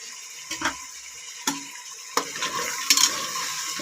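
Vegetables for bisibelebath being fried and stirred in a pan, with a few scattered spoon scrapes and knocks against the metal over a soft steady sizzle.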